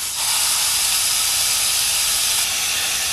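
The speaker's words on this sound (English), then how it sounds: "So it's sizzling." Loud, steady sizzling hiss of a hamburger patty frying in a Dash egg bite maker, starting abruptly and holding constant throughout.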